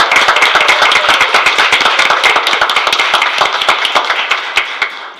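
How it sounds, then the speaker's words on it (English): Audience applause at a school district board of education meeting, a dense, steady patter of many hands clapping that fades gradually toward the end, with no talk over it. "if you all could join me again in applause for Ms. Elba Herrera."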